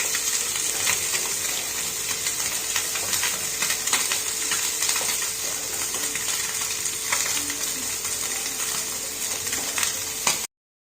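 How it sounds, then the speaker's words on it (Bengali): Vegetable chops frying in hot oil give a steady, dense sizzle and crackle that holds at an even level throughout, with small pops scattered through it and no voices. "তেল গরম হয়ে গেছে। সবগুলো আমি ভেজে নেব।"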